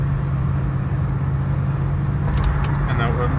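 A 1978 Mercury Cougar XR7 cruising on the freeway at around 55 to 60 mph, with a steady, loud low engine drone and road roar filling the cabin, plus a few brief high clicks or jingles near the end.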